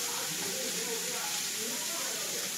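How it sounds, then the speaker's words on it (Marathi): Kaleji frying on a hot tawa gives a steady, dense sizzling hiss that stays even throughout. "तवा गरम झालेला आहे आणि त्यात मम्मीने सगळं टाकलेलं आहे"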